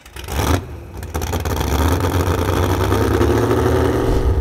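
Tractor pull machine powered by twin small block Chevrolet engines making 1300 horsepower, a loud close rumble that surges after a short burst and holds a heavy, continuous roar.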